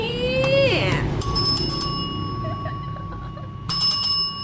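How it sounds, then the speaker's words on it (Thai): Small bell bought for sixty-nine baht, rung several times in quick bright strikes indoors, with someone talking over and around the ringing. "กระดิ่ง"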